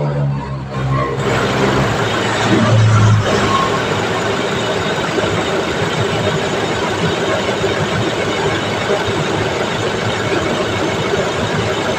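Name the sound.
car engine running with air conditioning on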